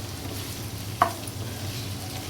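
Chicken fry with coriander sizzles in a pan under a low steady hiss and background hum, with one sharp clink from stirring midway through.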